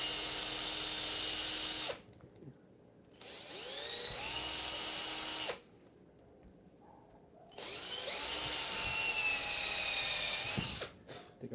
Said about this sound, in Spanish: una vez que le hacemos los huequitos, le cambiamos de broca